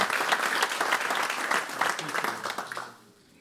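A church congregation applauding at a Sunday service, a burst of dense clapping from a crowd that holds steady for about three seconds and then drops off quickly.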